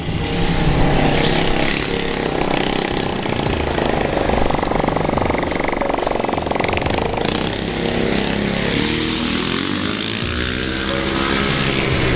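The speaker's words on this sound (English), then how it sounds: "The neighbors are causing a ruckus on their little mini bike." A neighbor's small mini bike engine buzzes loud and continuous nearby, with rising and falling revs that sweep in pitch toward the end.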